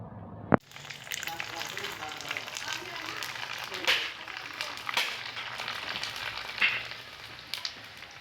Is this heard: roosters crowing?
no